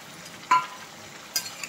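Tomato and potato pieces being stir-fried in a pan for a country chicken curry, two brief spoon scrapes against the pan over a faint, quiet background.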